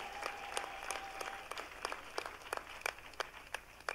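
Church congregation clapping for a visiting professor, a quiet and sparse run of individual claps with a sharper, louder cluster toward the end, with a brief voice early on.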